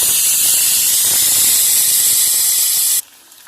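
Chicken chilli frying in hot oil, a loud steady sizzle and steam hiss held for about three seconds, then cutting off abruptly to a faint quiet hiss.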